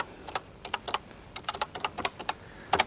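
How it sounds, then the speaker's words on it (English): Typing on a 1986 home computer keyboard, a quick irregular run of crisp key clicks at close range with short pauses between bursts and no talk. "I position the cursor where I want to start typing, and just hit one of the keys on the mouse like that, and I can type Home Publishing."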